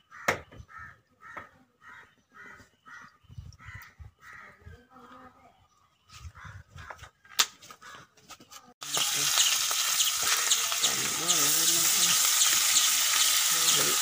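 Fish from a backwater frying in hot oil in a pan, a loud, steady crackling sizzle that starts abruptly and runs on strongly after a stretch of quieter talk, with crows cawing in the background.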